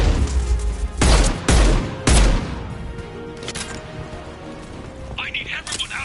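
Gunfire in Mass Effect Legendary: a few loud, sharp close shots early on, followed by quieter scattered cracks and distant combat noise.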